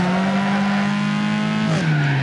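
A car drifts in Need for Speed Underground 2 with a steady, high engine drone and faint tire squeal. Near the end the pitch drops abruptly as the revs fall.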